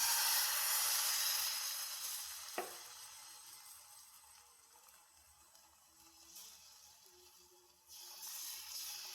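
Egg pathiri batter for a Kerala snack hits a hot pan, giving a steady, bright sizzling hiss with one sharp tap near the start and a brief swell of frying noise toward the end.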